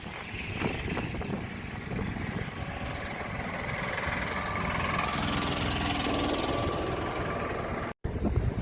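A friend's motor boat engine runs steadily near Dwarka, with a continuous loud idling drone and slight knocking vibration. It breaks off for a moment near the end, then resumes.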